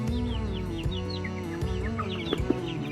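Young Easter Egger chickens in a small flock giving soft peeps, chirps and an occasional cluck, several overlapping calls close by with no talking.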